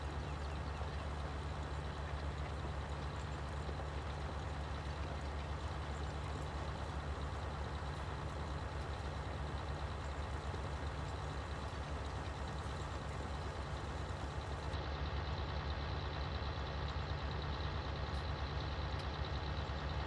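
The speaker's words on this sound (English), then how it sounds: "This thing, it just sounds like it's idling." A farm truck engine idles steadily in Farming Simulator 19, a constant low rumble that holds unchanged and close for the whole stretch, with no talk over it.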